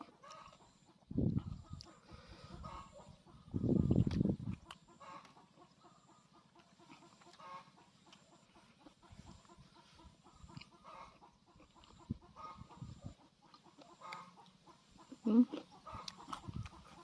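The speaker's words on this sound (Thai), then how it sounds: "เสียงไก่ครับ" Chickens cluck sporadically at moderate distance, with a couple of louder bursts of flapping or scuffling and softer calls in between.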